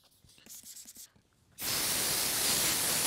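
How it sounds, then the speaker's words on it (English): Sandpaper rubs over a Mercedes-Benz SL55 AMG headlight lens, a few short scratchy strokes followed by a loud, continuous close-up hiss of sanding. "we're gonna go ahead and keep sanding this little area right here."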